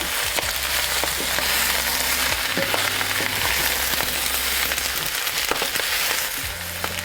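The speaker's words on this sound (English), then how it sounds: "We have beautiful caramelization happening, so now it's time to turn them over." Brussels sprouts sear loudly in a hot pan as they are turned over, a strong continuous crackling sizzle with scattered sharp pops and a few low clunks close at hand, with no talking.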